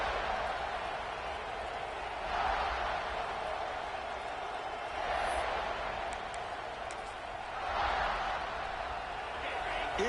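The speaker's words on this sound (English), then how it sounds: "this crowd is fired up. Listen to this noise here." Steady roar of a college football playoff stadium crowd at an early first-round game, swelling in waves every few seconds and holding loud and continuous throughout.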